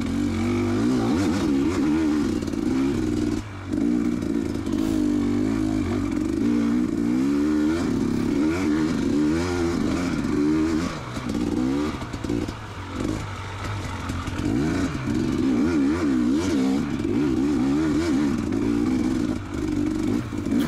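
A carbureted 2019 KTM 250XC two-stroke dirt bike rides off-road trails, its engine revving and wavering continuously up and down with loud clatter and scraping throughout.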